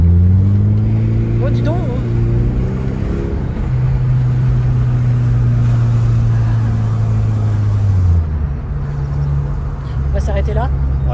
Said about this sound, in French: je ne m'y connais pas spécialement en voiture, mais elle fait un joli bruit